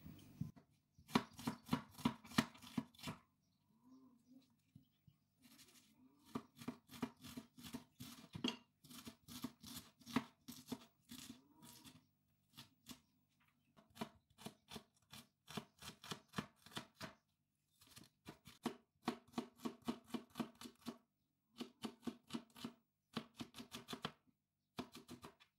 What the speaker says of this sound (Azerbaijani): Birinci soğanlarımızı xırda-xırda doğruyuruq.